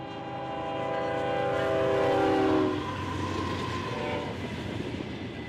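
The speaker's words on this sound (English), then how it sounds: "Union Pacific flies in with a general merchandise freight for Kansas City." A Union Pacific general merchandise freight train bound for Kansas City blows a long, loud horn on BNSF's Marceline mainline. The horn cuts off and gives way to a steady rolling rumble as the cars pass close by.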